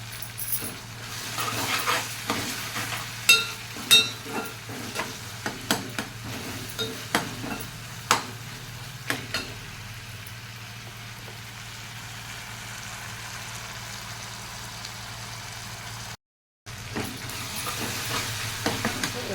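Goat head curry with curry leaves sizzles in a pan as a spoon clinks and scrapes through it in a quick burst of strokes. After that a soft, steady simmer continues with a short silent gap near the end.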